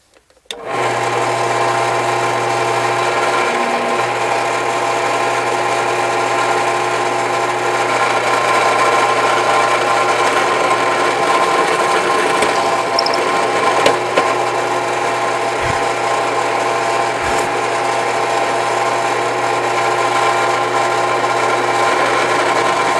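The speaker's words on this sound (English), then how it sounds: "rather than you sitting here watching me drill all kinds of holes" A power drill bores holes in quarter-inch scrap wood pieces for a wooden chain, giving a steady, unbroken motor whine with a low hum that runs loud and close for the whole stretch.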